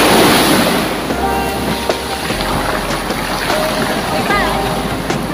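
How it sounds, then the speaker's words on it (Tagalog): Sea waves rolling near a resort in Jala Jala, Rizal, with a loud, continuous surf wash and heavy wind buffeting the microphone; voices chatter faintly underneath. "Kaya nga, tinan mo na may alon."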